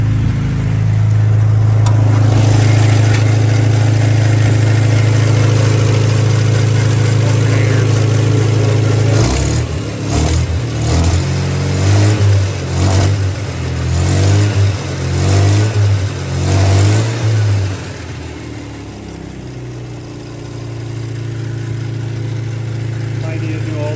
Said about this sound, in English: The engine sounds nice and it runs well